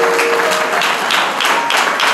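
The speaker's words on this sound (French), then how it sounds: "Acclamons pour lui." An audience at a national day ceremony breaks into loud, dense applause for a speaker, steady clapping from many hands filling the room without pause.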